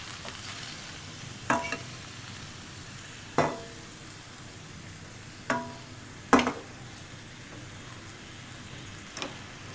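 Small chicken pieces, lightly coloured and cut into little boneless chunks, fry in a pan under a steady low sizzle, broken by a few sharp stirring clatters spaced a couple of seconds apart.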